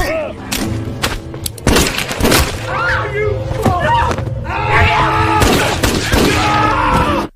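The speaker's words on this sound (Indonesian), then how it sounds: "Neto segera menghabisi anak buah Dodi dan menembak kaki Dodi" Gunshots ring out in a mafia-hideout action film scene as a man is shot in the leg: several sharp, loud cracks and thuds scattered through the clip, with groaning voices and a dense score-like backdrop throughout.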